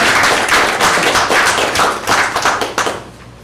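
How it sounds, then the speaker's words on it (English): An audience at a school board meeting breaks into brisk applause, a dense, steady patter of many hands clapping for about three seconds before it thins out and fades. "Can we clap again?"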